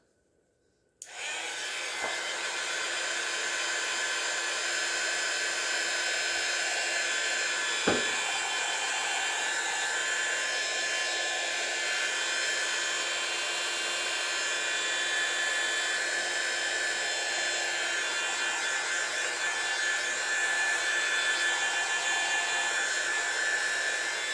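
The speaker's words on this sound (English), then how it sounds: "let's do this heat gun one more time." Heat gun blowing steadily over thick resin coating a crushed mirror vase, a continuous loud airy roar that starts abruptly and runs unbroken, with one faint click partway through and no talking.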